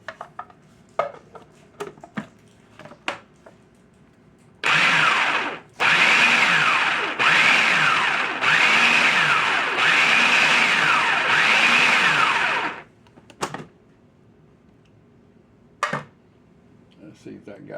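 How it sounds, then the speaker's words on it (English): A blender purees restaurant-style salsa of canned tomatoes and a whole roasted jalapeno with skin, seeds and ribs, running loud and close in about five pulsed bursts over roughly eight seconds, with quieter clatter before and after. "Blend it right up."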